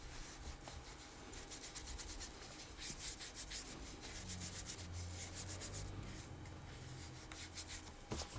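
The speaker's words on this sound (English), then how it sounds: "The urushi is wiped thoroughly with a cloth to ensure that it has been applied evenly." A cloth wipes urushi lacquer over a wooden piece during fuki-urushi lacquering, giving a soft, steady rubbing hiss that continues without a break at low volume.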